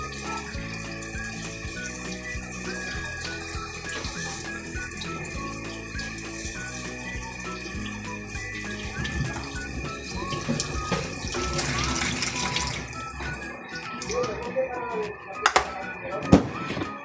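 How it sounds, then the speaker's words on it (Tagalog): Hotdogs are rinsed under a running kitchen tap, a steady gush of water splashing into a sink while a person talks over it, with a few clinks near the end. "At ito po ay ating huhugasan na."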